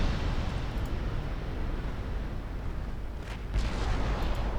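Heavy naval 8-inch guns boom amid a ship exploding in the Ultimate Admiral: Dreadnoughts naval battle game, a dense continuous rumble of artillery with a couple of sharper blasts near the end.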